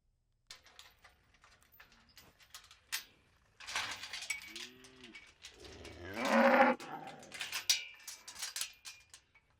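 Weaned calves and cows moo, giving a few nearby drawn-out lows and a louder, fuller bellow partway through, with faint clatter around them and no talking.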